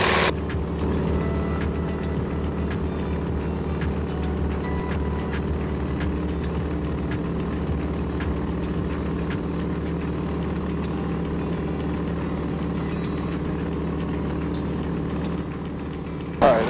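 A 1944 SNJ-5 trainer's radial engine roars steadily at high power during takeoff, a loud, sustained drone with propeller buzz that holds nearly constant throughout.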